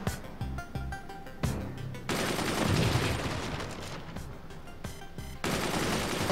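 Gunfire from a machine gun in the video game Forts, bursts of rapid shots with a dense sustained stretch of firing in the middle and sharp breaks between volleys, loud and close.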